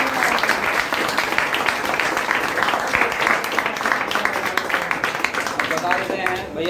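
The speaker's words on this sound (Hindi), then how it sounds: "ताली बजाइए एक बार।" An audience at an award and honouring ceremony claps in sustained applause, a dense steady roar of hands filling the clip, fairly loud, with no speech over it.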